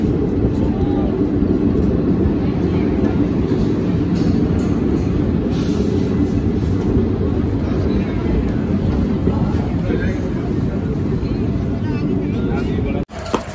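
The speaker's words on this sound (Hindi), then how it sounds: "पहुंच चुकी है मथुरा एक्सप्रेस अपने पहले हॉल्ट खटीमा में" Mathura Express passenger train pulling into platform one at Khatima station, a steady loud low rumble of wheels and carriages running throughout before cutting off abruptly at the end.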